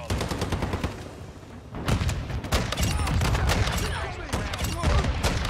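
Rapid gunfire from an SA-B 50 rifle in Modern Warfare 2 rings out in dense, repeated bursts of sharp cracks and booms that carry through most of the stretch, with only a brief lull early on.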